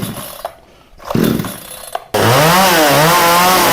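A budget VEVOR chainsaw engine with a starting fault sputters and revs unevenly, then roars into a loud, steady run with a wavering whine.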